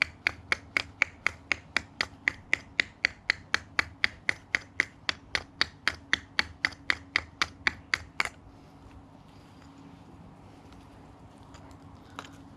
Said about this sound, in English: Chisel this bit off.